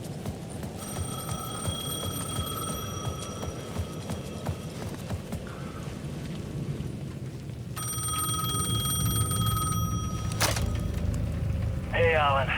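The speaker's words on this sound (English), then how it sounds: "The payphone at the edge of the plaza was ringing again." An old-fashioned payphone bell in the video game Alan Wake 2 rings in repeated bursts over a busy background of footsteps and clatter, with a voice speaking near the end.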